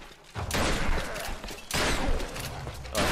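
Heavy booming shotgun blasts from the game Tomb Raider, three loud bursts with a rumbling tail that fades between them, no voices.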